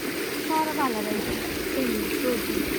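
A stream rushes and flows steadily nearby in Shonai Ryokuchi Park, Nagoya, Japan, a continuous watery hiss, with brief voices heard over it.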